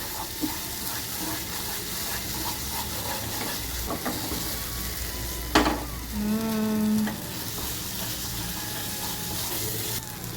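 Spicy garlic chutney fries and sizzles in a pan while being stirred, a steady hiss with occasional scraping clicks of the spoon, close up and without talk.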